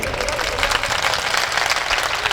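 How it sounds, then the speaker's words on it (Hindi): Audience applause at a mushaira, an Urdu poetry gathering: a dense, steady patter of many hands clapping together, sustained evenly for a couple of seconds with a faint murmur of the crowd underneath. "इनके लिए ताली हो जाए यार।"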